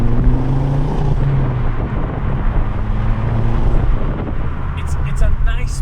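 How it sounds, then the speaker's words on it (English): A 2009 Ford Focus RS five-cylinder engine pulls hard in third gear from around 2000 rpm, with a deep steady drone and rising tones under wind buffeting, while a person talks over it. "Third gear, 2000 RPMs when I step on the front now. Very cool sound."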